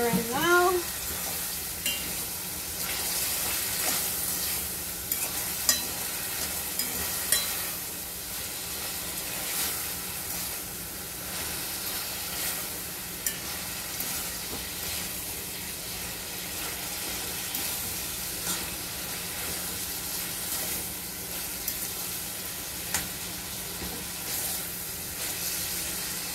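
Breadfruit fries in a pan, giving off a steady, moderately loud sizzle and hiss with light stirring clatter and occasional pops, and no talk over it.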